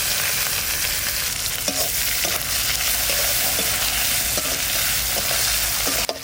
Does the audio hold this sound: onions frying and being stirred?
yes